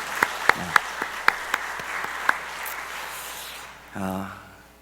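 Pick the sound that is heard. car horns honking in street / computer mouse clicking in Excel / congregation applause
congregation applause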